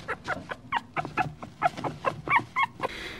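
A 25-day-old Yorkshire terrier puppy gives a run of high, squeaky whimpers and yelps, about a dozen short cries in quick irregular succession, close and fairly loud over a low background hum.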